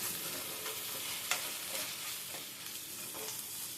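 Curry sizzling in a frying pan as ginger paste is stirred in, a soft steady hiss with faint scraping strokes of the spoon, fairly quiet and with no voices.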